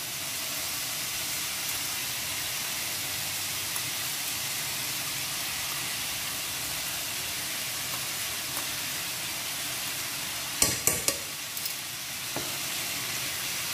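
Green beans and ground masala sizzle in a pan with a steady hiss throughout, and a few sharp scraping clicks from stirring near the end, fairly quiet and close.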